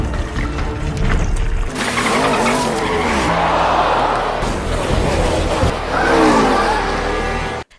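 Race car skidding on oil spilled from a jerry can on the track, nearly crashing; loud continuous tire squeal and engine noise swelling and sliding throughout, close and intense.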